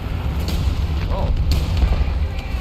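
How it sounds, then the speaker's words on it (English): Artillery fire in War Thunder during a tank battle: a heavy, continuous low rumble with scattered dull booms and thuds, loud and close throughout. "Artillery warning."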